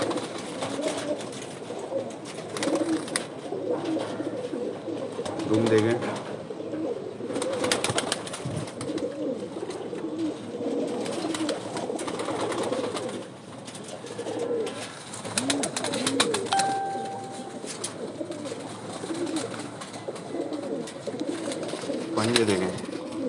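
Pigeons coo in soft repeated bursts close by, with wing flutters now and then, while someone speaks over them throughout.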